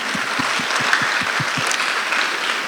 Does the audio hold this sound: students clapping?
yes